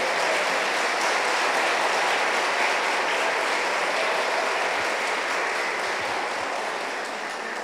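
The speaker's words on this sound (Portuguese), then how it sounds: "Vamos aplaudir o nosso Emanuel." A church congregation applauds together, a dense, steady wash of clapping that fills the hall throughout and tapers only slightly near the end, with no voices rising above it.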